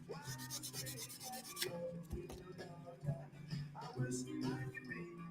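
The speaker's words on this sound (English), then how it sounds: "I don't want to keep sanding on this, man, because you'll lose detail." Soft, steady rubbing and rasping of sandpaper on a small carved sabertooth figure at a workbench, with short strokes and a few faint taps at a quiet level.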